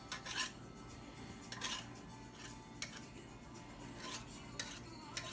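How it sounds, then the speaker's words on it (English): A knife trims excess dough from the edge of a homemade pumpkin pie crust, giving faint, intermittent scraping strokes spaced a second or so apart against a quiet kitchen background. "we're going to cut off this extra with the knife, just going like this"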